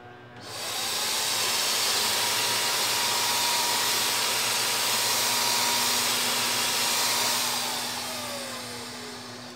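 A Wagner Flexio 590 paint sprayer spraying ceiling paint starts up with a steady, loud airy hiss and motor whine that holds evenly, then slowly fades near the end.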